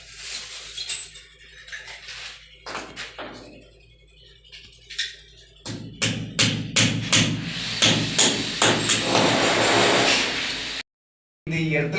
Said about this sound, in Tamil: இந்த மாதிரி ஒரு ஆணி அடிச்சிடலாம்.